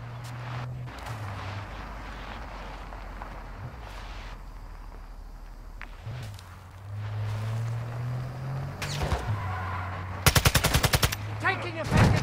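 Video game gunfire, scattered shots and short automatic bursts at mixed distances over a low droning hum, ending in a loud rapid volley of shots.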